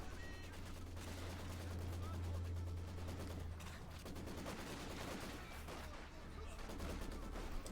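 Machine-gun suppressive fire from a Maxim in Company of Heroes 2, a muffled, steady rattle of gunfire layered with battle noise and a low rumble, faint and continuous under game sounds.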